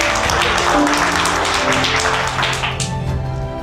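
An audience at a children's Christmas church program gives steady applause, a dense, even wash of clapping that holds across the whole stretch with a sustained musical tone beneath.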